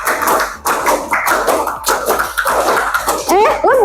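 Hands clap in a classroom in short bursts of several sharp claps, mixed with children's voices and a teacher speaking.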